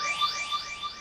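Synthetic riser effect opening a lofi hip hop beat: repeated upward sweeping tones climbing in pitch against a steady high sustained note, soft and alone.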